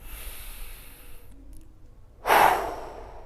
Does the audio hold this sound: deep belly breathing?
yes